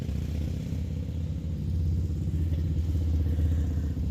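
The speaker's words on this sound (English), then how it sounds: "Got a loud motorcycle coming past." A loud motorcycle passing by on a trail-side road, its low engine rumble swelling and holding strong near the end, with no talk.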